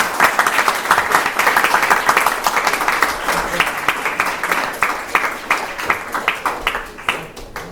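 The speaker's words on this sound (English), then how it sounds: "Please, round of applause for Dr. Suraj." An audience at a summer white coat ceremony applauds, dense clapping fading into looser scattered claps toward the end, with no voices over it.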